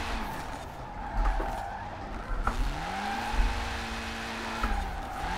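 Tires squeal and skid as a car drifts along a guardrail in a racing video game, with sliding pitch sweeps over steady engine drone, a few thumps where it scrapes the barrier.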